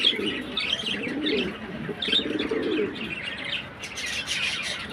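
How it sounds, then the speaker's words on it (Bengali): Quality breeding pigeons, including White Copper Archangels, coo and chirp near the microphone in a steady, busy chorus of throaty calls with the odd faint wing flutter. "কবুতর মাশাল্লাহ মাশাল্লাহ কোয়ালিটি কবুতর দেখেন"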